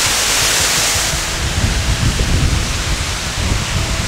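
Waterfall in Gros Morne National Park, Newfoundland, at a swimming hole: a loud, steady broadband rush of falling water with a low rumble, continuous throughout with no voices.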